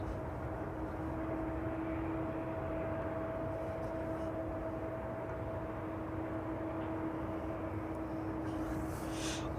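A DHL cargo aircraft, an older airframe in the fleet and UK registered, at East Midlands Airport gives a steady, fairly faint engine drone with a constant tonal whine throughout.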